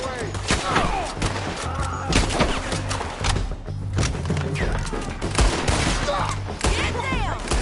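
Rapid, repeated gunshots in a Red Dead Redemption 2 firefight crack out in quick volleys throughout, mixed with thuds and shouting voices.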